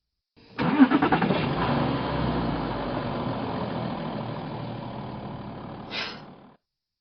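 A car engine cranks and catches, then runs at a steady rough idle for several seconds, close and fairly loud, with a brief rise near the end before it cuts off.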